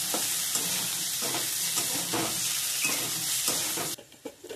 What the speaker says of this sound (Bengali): গাজরটাও ভালো করে ভাজে নেব।